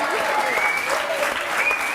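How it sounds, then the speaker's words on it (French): A studio audience at a French television debate show applauds steadily, a dense wash of clapping with some voices and a whistle-like tone riding over it. "Et le public il applaudit"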